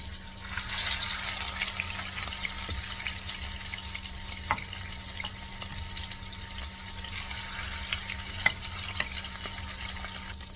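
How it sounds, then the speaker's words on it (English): Snapper fillets sear in a pan with a continuous hiss and sizzle, broken by occasional small crackles and pops, with no talking. "Brown these fillets. Just a quick sear on each side."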